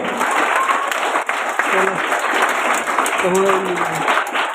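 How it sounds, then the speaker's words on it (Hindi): An audience at a coaching centre event for children gives a loud, steady burst of applause, with a voice speaking briefly over the clapping. "सर जी के लिए एक बार और जोरदार ताली हो जानी चाहिए"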